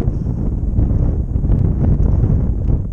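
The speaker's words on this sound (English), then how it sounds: "That wind is something funny, I tell you." Strong wind on the Appalachian Trail buffets the microphone in a loud, steady low roar with gusty surges throughout, and a faint whistling tone above, with no talk.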